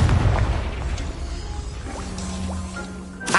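Confringo blasting spell in a video game, a deep booming explosion up front that decays into crackling, popping debris and magical zaps, moderately loud with no talk.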